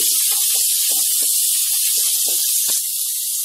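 Carrots sautéing in a hot pan for vegetable macaroni pasta, a constant loud sizzle with light clinks and scrapes of stirring over it.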